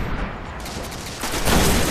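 A sniper rifle shot in the video game Destiny sounds as a dense, loud burst of gunfire, building into a heavier blast in its last half second.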